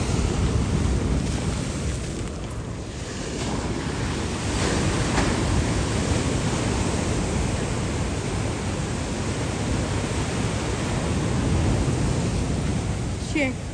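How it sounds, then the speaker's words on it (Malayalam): Large sea waves breaking on a shore make a loud, continuous roaring wash with steady surf noise and some wind buffeting the microphone throughout. "വലിയ തിര വരുന്നത്, വലിയ തിര."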